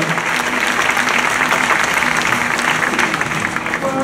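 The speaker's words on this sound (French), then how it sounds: "On applaudit." A live audience applauds a young performer named Reinui at a cultural show, a dense, steady wash of many hands clapping at close range for about four seconds, with faint crowd murmur and no clear speech.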